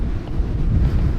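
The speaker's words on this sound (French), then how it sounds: "quand on va être moins dans le bruit du vent" Outdoor wind at the Olympic Stadium in Montreal buffets the microphone with loud, rumbling low-end gusts, continuous and close, with no voices.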